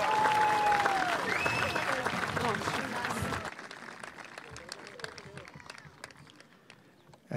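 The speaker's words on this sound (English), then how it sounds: "Let's give them a nice round of applause again." Audience clapping at a high school graduation ceremony, a broad dense wash of applause that is loud at first and then thins and fades after a few seconds.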